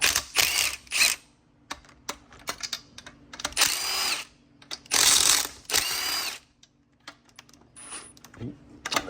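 Power tool loosening the sump bolts on a Briggs and Stratton engine, in several short whirring bursts with clicks and small metallic clatters between them, close and fairly loud.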